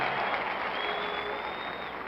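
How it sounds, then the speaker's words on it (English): Steady applause from a large basketball arena crowd, standing during player introductions, a dense continuous wash of clapping filling the whole stretch at even loudness. "And now the audience stands and applauds Dave DeBusschere."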